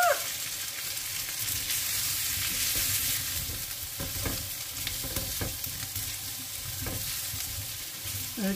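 Chicken pieces sizzle and fry in a hot pan, with steady bright crackling throughout and intermittent scraping clunks as they are stirred, close and fairly loud with no voices.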